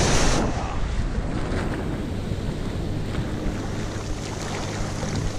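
Winter sea waves roll and break toward a surfing beach with a steady, rushing roar, a heavier surge at the start, and gusty wind buffeting the microphone throughout.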